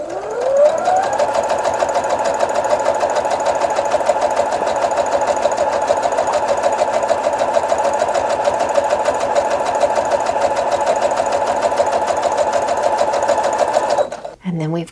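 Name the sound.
sewing machine sewing scrap fabric string block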